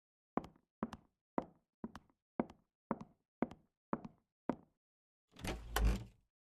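Nine evenly spaced knocks rap on a door, crisp and close with short gaps, followed by a softer creaking or sliding sound as the door opens, all in a quiet radio drama setting.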